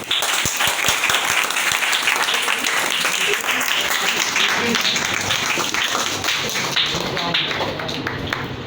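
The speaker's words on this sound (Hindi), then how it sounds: "आप सब की भरपूर तालियों में" Sustained audience applause fills a competition prize ceremony for Urdu prose writing, dense steady clapping from a large crowd throughout, with voices mixed in underneath.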